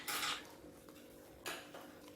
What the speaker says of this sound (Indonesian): Aduk secara merata, jangan lupa untuk tes rasa.